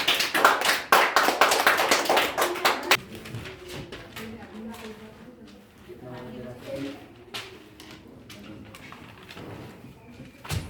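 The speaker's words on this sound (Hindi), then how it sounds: "ताली बजाओ" Children in a classroom clap their hands together in a quick burst of sharp, close claps that soon thins into scattered taps, with talking carrying on afterward.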